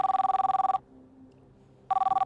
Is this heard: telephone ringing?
yes